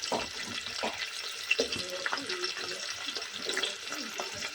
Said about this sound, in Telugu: వీటిని ఇప్పుడు ఎర్రగా మారే వరకు వేయించుకోవాలి.